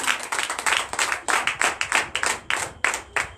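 Congregation at a night deliverance and prophecy church service clapping in rhythmic, close bursts, a steady pulsing beat of many hands that keeps a regular tempo throughout.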